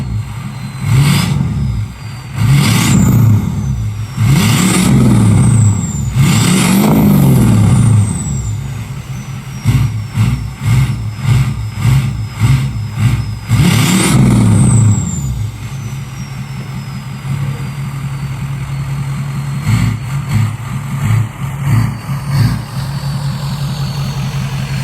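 Truck engine fitted with an extra-large exhaust tip revs repeatedly in loud, lumpy, throaty bursts over a steady idle, with air-brake hisses between revs and no talking.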